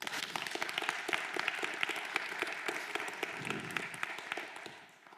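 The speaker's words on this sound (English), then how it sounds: "You're applauding Limon, not me." An audience applauds steadily and fairly close for a theatre lecture by Jerzy Limon at the Gdańsk Shakespeare Theatre, the dense clapping holding evenly and fading slightly at the very end.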